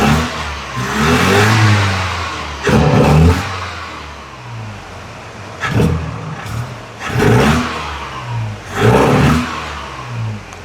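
A Volvo 240 with a carburetor idles roughly, then is revved in several sharp throttle blips that surge and fall back, loud and close, with no talk.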